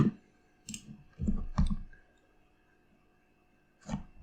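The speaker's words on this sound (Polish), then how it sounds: "Klikamy na niego dwukrotnie" Computer mouse clicked in a quiet room, a few sharp close clicks including a quick double-click, then a pause before a final single click.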